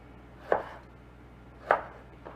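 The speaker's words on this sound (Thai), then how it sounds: "การหั่นหมูสามชั้นนะคะ ก็หั่นให้หนาสักประมาณหนึ่งนิ้วค่ะกำลังดีนะ" A knife chops down through pork belly onto a cutting board in a few separate firm thuds, spaced about a second apart, close and clear with no talking.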